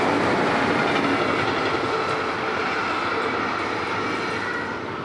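A train rolls along railway tracks right beside a campsite, a steady loud rumble with a faint clickety-clack that holds for several seconds and eases slightly toward the end, with no voices.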